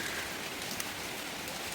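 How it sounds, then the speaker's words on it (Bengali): Afternoon rain falling steadily, an even, soft wash of hissing drops with no voices. "আজকে দুপুরের পর থেকে বৃষ্টি শুরু হয়েছে"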